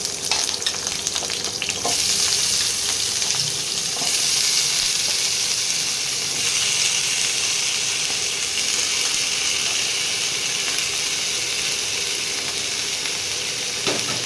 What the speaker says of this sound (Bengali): ওলকপিগুলো ভাজা ভাজা হচ্ছে